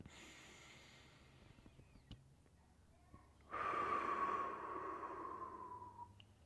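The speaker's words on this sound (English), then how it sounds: "Deep breath. And extend." A single deep breath taken during a back stretch exercise for easing a tweaked back, a long, airy exhale swelling up suddenly after quiet and fading slowly over a few seconds, close and fairly soft.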